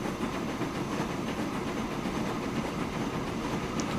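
A Baden 72 steam locomotive runs in Transport Fever, giving a continuous rumbling chuff with faint rhythmic clatter, steady and fairly close, with no voices.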